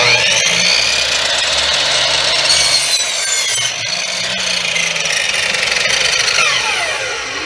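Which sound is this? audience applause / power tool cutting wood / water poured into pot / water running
power tool cutting wood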